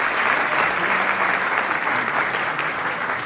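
Dense, steady applause from a hall audience welcoming arriving guests and dignitaries, a continuous wash of many hands at even loudness throughout, with no talk over it.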